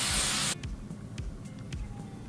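A short burst of hairspray hisses onto hair for about half a second, close and loud, followed by quieter handling sounds.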